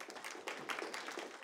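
A lecture audience gives a brief round of applause, dense close clapping that fills the moment without a pause and stops quickly.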